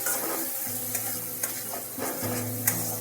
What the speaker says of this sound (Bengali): ভালোভাবে মশলার সাথে মিশিয়ে একটু ফ্রাই করতে হবে